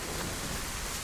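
Steady, dense rain falls in the video game DayZ, on the Livonia map during a woodland trek, a broadband hiss with faint low rumbles and no voices.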